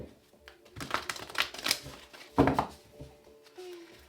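Tarot cards being shuffled by hand at close range, a run of soft papery riffles and slaps with a brief louder burst partway through and a short voiced sound near the end.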